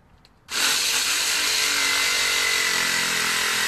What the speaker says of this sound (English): Hey, at least we know I can use a jigsaw.